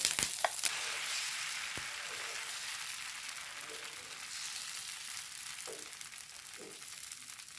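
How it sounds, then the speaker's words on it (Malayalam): Dosa batter poured onto a hot pan for an egg dosa, hissing with a steady bright sizzle that stays fairly even throughout, with a few faint scrapes and taps at the start. "അതിലേക്ക് ഞാൻ മാവ് ഒഴിച്ച് കൊടുക്കണ്ടേ"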